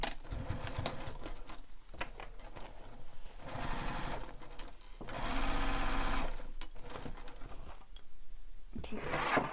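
A sewing machine bastes layers of a bag together with a long stitch length, running in several bursts of steady rattling whir separated by brief pauses, close and moderately loud with fast, even stitch clatter.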